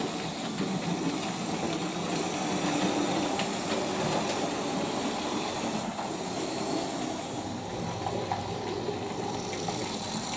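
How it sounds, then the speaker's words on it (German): A Fleischmann model passenger train hauled by a class 50 steam locomotive runs continuously with a steady rolling rattle and hiss, evenly loud throughout, with no talking. "Der Personenzug mit dem Kurswagen hält auf der Mole."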